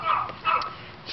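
Dogs give two short yipping barks close by over a little more than a second.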